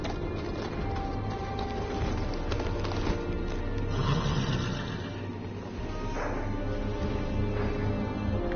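A horse neighs in a Game of Thrones video game, a loud whinny set against game music and ambient noise, with hoof clip-clops running underneath throughout.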